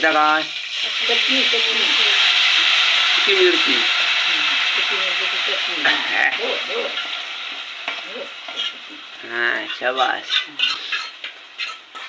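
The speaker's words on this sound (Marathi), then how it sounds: "लसणीची आणि कडीपत्त्याची फोडणी पडलेली असा हा फोडणी तडतडली" Garlic and curry leaves tempering in hot oil give a loud, steady crackling sizzle with stirring that runs nearly the whole time, and a voice talks over it now and then.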